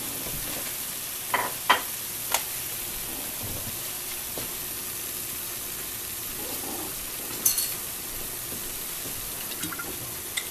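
Choi sum and other vegetables stir-fry with soy sauce in a hot pan, giving a steady soft sizzle with a few sharp clicks of a utensil against the pan scattered across it.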